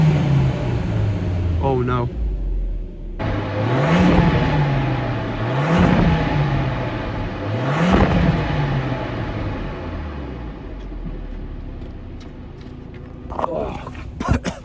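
A 1999 barn-find car's engine revs repeatedly in loud rising-and-falling surges as it burns off old fuel, then settles to a rough idle; a person speaks briefly over it.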